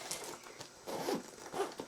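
Zipper on a bag being pulled open in a quiet room, a couple of short soft zips close by with faint rustling.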